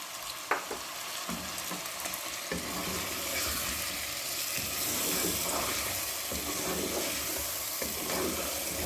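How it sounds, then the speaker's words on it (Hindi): Continuous loud sizzling of a tomato paste base frying in a hot pan for turnip and meat curry (shaljam gosht), with occasional stirring scrapes and clicks, close up and without talking. "तो फ्राई करते हैं।"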